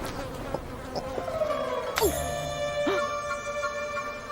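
Flies buzz in a thin, steady drone close by through a quiet period-drama scene, with faint speech-like sounds and a few brief chirps mixed in.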